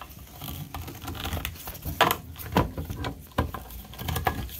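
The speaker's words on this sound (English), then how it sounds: "So we're pouring all our coconut milk straight from the can," Coconut milk poured straight from a 400 ml can into a pot, giving a close, uneven run of wet patters and soft splashes with a few sharper clinks, no talking.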